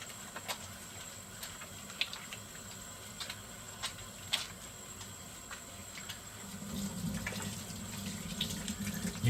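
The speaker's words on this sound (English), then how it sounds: "Whenever you wash your hands, you always have to wash your wrists, not only your hands" Hands being washed under a running tap, a faint steady stream of water with small clicks and splashes. The flow grows fuller toward the end, and no one speaks.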